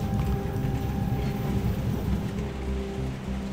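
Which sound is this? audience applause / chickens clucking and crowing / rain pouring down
rain pouring down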